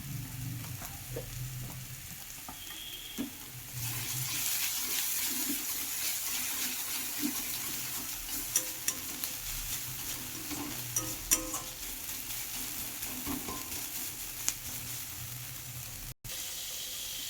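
Chili paste hissing and sizzling in a hot pan for an egg dish, a steady frying crackle that swells louder after a few seconds, with scattered clicks and scrapes of stirring, close up and without speech.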